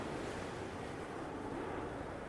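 Sea waves heard in the film Roma, a faint, steady broadband wash of surf with a windy rush and no distinct breaks or voices.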